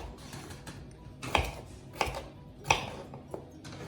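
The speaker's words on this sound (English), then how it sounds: "I'm just going to cut it into cubes about that big" A kitchen knife cuts potatoes into cubes on a board, with a few distinct chopping knocks spaced irregularly over soft background noise.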